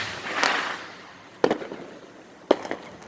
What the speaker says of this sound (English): I'm trying to look for fireworks. They're everywhere.